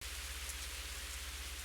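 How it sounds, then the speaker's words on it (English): Steady, dense rain from a video game hisses evenly and fairly loud, with faint droplet patter and a low rhythmic pulse underneath; no voices. "let me turn down that rain effect is a little loud on my end still"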